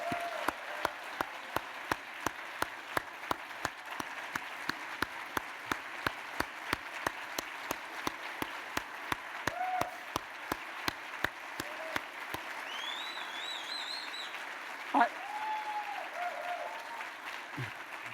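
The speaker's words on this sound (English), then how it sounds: "Let's have a big round of applause for every Metro first responder." A large audience at a mayor's State of the City address gives sustained, steady applause for the city's first responders, with a regular ticking beneath it until the clapping thins out near the end.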